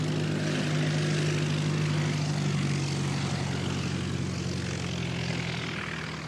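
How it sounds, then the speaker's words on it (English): An airliner's engines hum steadily at Christchurch Airport in strong, gusty winds. A continuous low droning tone with a broad rushing hiss runs through the whole stretch, easing slightly toward the end. "Jetstar 236 pushback, setting up to Auckland"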